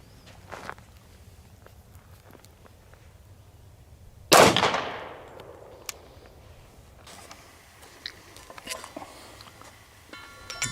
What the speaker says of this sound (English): Up next, the H&K VP40 40 Smith & Wesson.